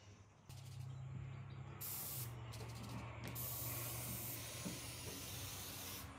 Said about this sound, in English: So I'll go ahead and spray the control.